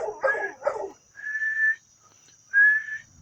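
A pet dog gives two quick, close barks or yips. Two clear, steady whistled notes follow in a quiet setting.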